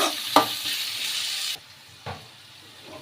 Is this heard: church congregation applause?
no